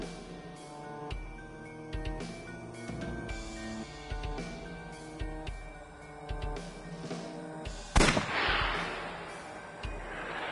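Gunshots in the AI: The Somnium Files game ring out as several sharp, booming reports over a layered musical backdrop, with one especially loud crack late in the clip followed by a noisy burst.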